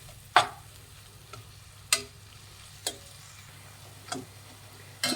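Grated apple frying in ghee or butter for apple rabdi kheer, stirred with a spoon that taps the pan in five or six spaced clicks over a faint low sizzle, fairly quiet.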